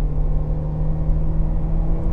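A 2007 Toyota Camry Hybrid pulling away hard under heavy load, a steady close engine drone and low rumble with a constant hum, no voices.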